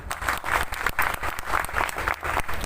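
Audience applause fills a Lions Clubs International district event held at a hotel: steady, dense clapping from a crowd throughout, fairly loud and close, with no talking over it.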